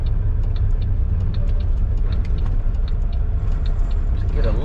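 A heavy truck hauling a loader pulls into a parking lot, its engine rumbling low and steady throughout with faint ticking and clatter above the drone.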